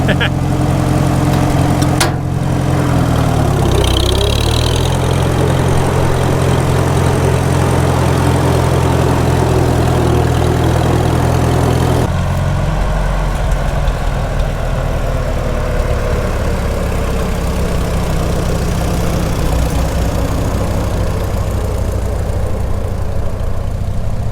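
A 1948 McCormick-Deering W-4 tractor engine runs loudly and continuously close by, its low rumble shifting in pitch partway through as it is driven through the gears.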